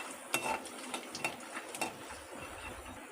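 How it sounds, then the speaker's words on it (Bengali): Peanuts frying over low gas heat in a pan, heard as a soft steady sizzle with several sharp clinks and scrapes of a spoon stirring against the metal, close by and fairly quiet. "বাদামটা একটু ভাজা হবে।"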